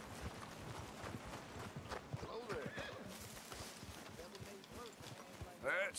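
Horse in Red Dead Redemption 2 whinnies loudly midway, with hooves clip-clopping throughout and a player talking over the game sound.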